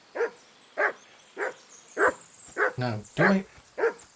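A dog barks in Kingdom Come: Deliverance 2, seven or eight sharp, evenly spaced barks about every half second, loud and close, with a brief spoken remark among them.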